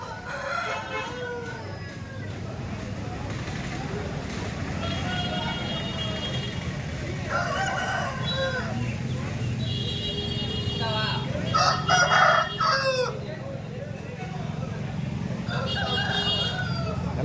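Andhra breed roosters crowing several times in a row, mid-distance, with clucking hens and a steady low rumble of traffic underneath; people talk in the background throughout.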